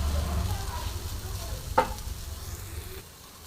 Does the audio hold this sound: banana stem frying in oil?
yes